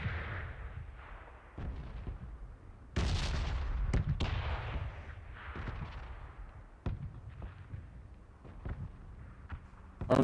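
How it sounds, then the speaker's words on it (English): Gunshots in the video game PUBG: scattered pops and cracks over a low rumble, with a louder burst of fire partway through and more shots after. "I hear shots."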